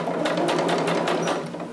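Sewing machine stitching fabric for a Vogue 2530 garment, a steady close rapid whirring with fast needle pulses for a short burst, no talking.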